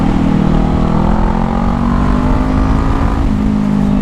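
Kawasaki ER6N motorcycle accelerating hard, the engine note loud and steady with harmonics climbing through the revs, dipping briefly near the end as it shifts, then pulling again.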